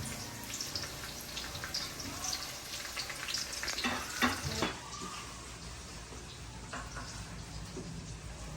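Garlic and onion sauté in a pan with a continuous sizzle and crackle and occasional stirring scrapes, at moderate volume with no talk over it.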